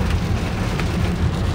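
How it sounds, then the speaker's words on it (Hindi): Rain falling steadily in Indonesia, likely near a shopping mall, a dense broadband hiss with low rumble running unbroken and fairly loud throughout, no talk over it. "हाँ अभी धूप थी, अब बारिश, धूप बारिश।"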